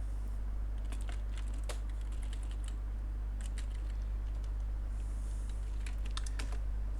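Computer keyboard keys clatter in short bursts as a terminal command is typed, with light rapid clicks over a steady low electrical hum.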